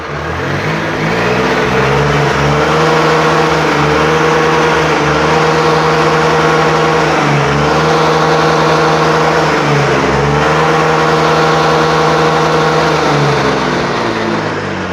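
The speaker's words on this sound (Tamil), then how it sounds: "தட்டின உடனே ஸ்டார்ட் ஆகுது." A Honda BS6 motorcycle engine running and revving, a steady loud close idle with repeated throttle blips rising and falling in pitch, no talking.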